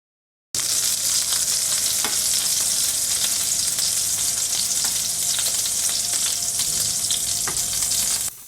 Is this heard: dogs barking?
no